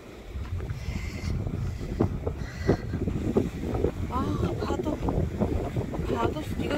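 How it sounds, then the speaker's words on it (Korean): Strong wind buffets the microphone on a coastal hiking trail near a harbour in Taean on Korea's west coast, a loud continuous rumbling roar with gusts throughout and faint voices underneath. "나중에 영상 바람소리 엄청나겠다."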